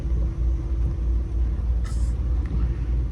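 A heavy truck rumbles in at a distribution center, a steady low engine drone close by with a brief hissing burst like an air brake partway through.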